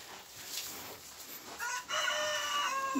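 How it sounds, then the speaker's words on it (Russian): Rooster crowing in a farmyard cowshed during cow feeding, a loud, drawn-out cock-a-doodle-doo that starts after quieter rustling and clucking noises and rings out clearly with no talk. "петушок раскричался"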